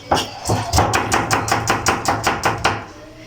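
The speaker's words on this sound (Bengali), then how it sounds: "আমার হাজব্যান্ড কি পরিমাণে দ্রুত গতিতে পেঁয়াজ কাটে" Quick, even knife chops on onions against a cutting board, about a dozen sharp strikes in steady rhythm, close and clear with no talk.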